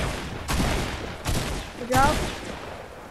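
Three bursts of gunfire in the video game Fortnite, each a loud rattling volley, sound about half a second apart, and a voice speaks briefly over the last one.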